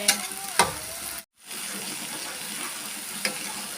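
Water spinach (kangkung) sizzles and hisses in a pan during a stir-fry, with a couple of sharp clanks from stirring and a brief cut to silence before the frying resumes.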